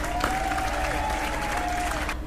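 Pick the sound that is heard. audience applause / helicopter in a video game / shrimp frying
audience applause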